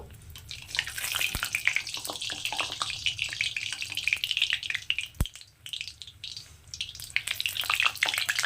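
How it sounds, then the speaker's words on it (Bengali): Bread slices frying in hot oil for a shahi bread malai, a steady crackling sizzle with busy bubbling throughout and a couple of sharp clicks, no talking. "আমি এই তেলের মধ্যে একটা একটা করে ভেজে নেবো লাল লাল করে"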